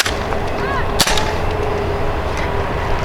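An HIR toy blaster pistol fires a single sharp crack about a second in, loud and close, over steady background noise.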